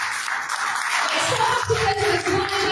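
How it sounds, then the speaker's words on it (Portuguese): Congregation clapping during a Portuguese-language church worship service, a dense wash of applause with cheering voices, fairly close and continuous. "Então vamos aplaudir o nosso amado Jesus"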